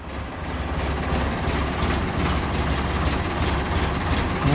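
A tractor engine rumbles steadily while the tractor reverses on farm ground. The low, continuous drone stays loud and close throughout, with no speech.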